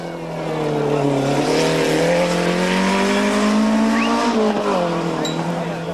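A Peugeot rally car engine drones loudly at a snow rally, its pitch wavering and briefly rising as the car spins in front of a large crowd, with a faint squeal on top.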